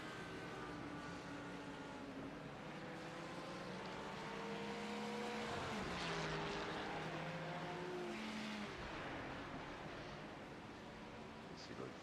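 GT3 race cars, including a Porsche, in a sim racing league race: several engines whine and shift pitch as they pass and jostle, a continuous layered drone rising to a louder peak midway and then easing off.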